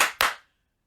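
Two quick, sharp hand claps close by, the second right after the first, with a brief ring-out and then silence.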